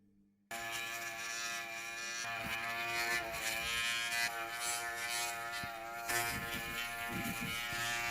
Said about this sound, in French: maintenant essayons ce mini rasoir